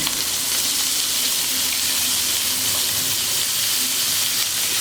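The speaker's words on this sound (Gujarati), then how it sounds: "હવે આપણે એમાં એડ કરીશું લસણની પેસ્ટ" Garlic paste hits hot oil in a pan while cooking a raw banana curry, giving a loud, even, unbroken sizzling hiss that holds steady from start to finish.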